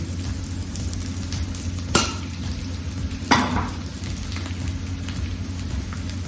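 Vegetables such as potato and carrot grilling in oil on a tawa give off a close, steady sizzle, with two sharp scraping or tossing bursts partway through and no talking.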